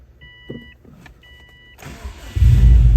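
A 2004 Subaru Impreza WRX STI goes from quiet interior chimes and clicks to a sudden starter crank and the engine catching, settling into a loud, rumbling idle close by.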